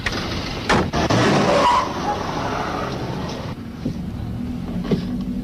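Car in motion in a 1938 film scene, a steady engine and road rumble running throughout at moderate level, with a brief louder burst near the start and no speech.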